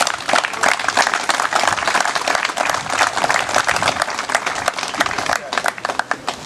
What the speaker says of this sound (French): je pense qu'il faut vraiment bien les applaudir